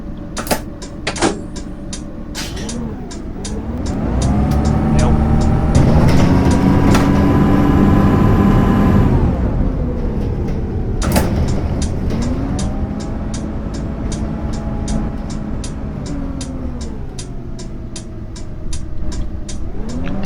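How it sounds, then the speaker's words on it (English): A bus engine in the driving game Lotus Simulator drones loudly and steadily, rising in pitch as it accelerates, settling, then revving up again, with sharp clicks and knocks scattered throughout. "It sounds really, really nice, this bus does."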